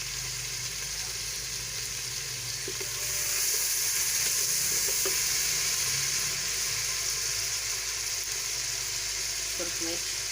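Tomatoes tossed into a pan with onion gravy and salt give a steady hissing sizzle that swells after a few seconds and holds evenly. A few faint clinks come through, with no talking over it.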